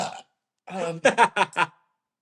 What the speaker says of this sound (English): Excuse me while I burp up my summer breath